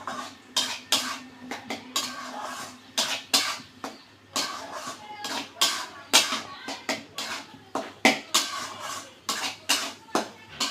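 A metal spoon stirs thor dal in a pot, scraping and clinking in an irregular rhythm of sharp knocks and scrapes, close and fairly quiet, with no talking.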